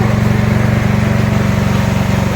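A Zegor Din-open 3999 generator rated 3.7/4 kW running on gas in economy mode, giving a steady, loud, close engine drone with an even low throbbing pulse and no pauses.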